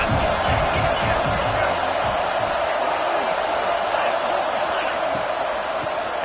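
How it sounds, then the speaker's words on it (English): A stadium crowd at an LSU versus Tennessee college football game roars in a steady, dense wash of noise, loud and continuous, with a commentator talking over it. "This crowd trying to make life miserable for this offense."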